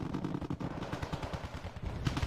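Sustained battlefield gunfire from fire support in the Wargame: Red Dragon video game, a dense rattling stream of rapid shots and bursts heard at a distance, fairly quiet and unbroken throughout.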